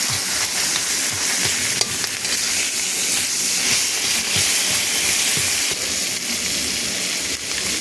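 Pieces of catla fish head fry in a pan with a loud, continuous close-up sizzle, broken by scraping stirs and light knocks, with no talking.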